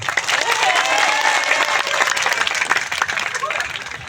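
Crowd at a Waisak (Vesak) gathering at Batu Jaya temple in Karawang breaks into applause, a dense clatter of many hands with scattered cheers and voices mixed in, easing off toward the end.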